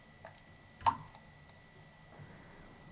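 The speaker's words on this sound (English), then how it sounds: "you hear that water drop? It's very distracting to me" A single water drop falls and lands with a soft, quiet plop in an otherwise hushed room, followed by a fainter second drip.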